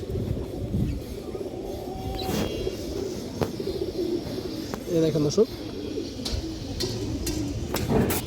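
Pigeons coo with low, soft rumbles at a pigeon farm, partly under a man's speech, with a few louder rolling coos near the middle and end.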